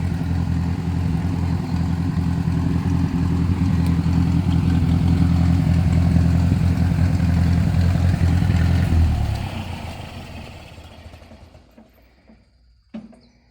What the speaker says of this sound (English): Did you have fun driving the tractor the first time?